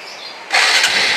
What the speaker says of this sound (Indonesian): Nih, sekarang mesinnya ini suaranya.